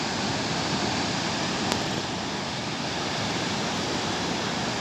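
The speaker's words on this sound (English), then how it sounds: "That's a gorgeous wave." Big swell waves crash at Playa El Socorro, Tenerife, a steady, broad rushing roar of surf heard from some distance, continuous and even with no voices.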